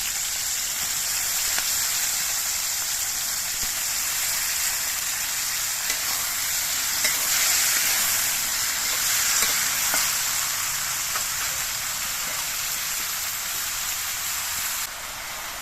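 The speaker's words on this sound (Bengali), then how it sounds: "আজকে চিংড়ি মাছগুলো ভেজে আর নামিয়ে নেব না, কারণ শাপলাগুলো রান্না হতে একদমই সময় কম লাগে। এই জন্য এর মধ্যেই শাপলাগুলোকে দিয়ে দিচ্ছি।" Water lily stems are dropped into shrimp that is already frying, and a dense, even sizzle carries on steadily. Faint stirring clicks come through now and then, it gets slightly quieter near the end, and nobody speaks.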